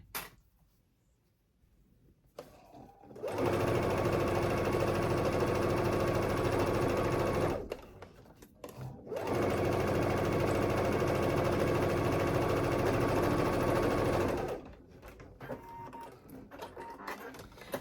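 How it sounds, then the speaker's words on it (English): A sewing machine runs in two steady bursts of rapid stitching, a loud whirring hum that stops briefly between runs, with quiet pauses around them. "Little pressure as I'm sewing down."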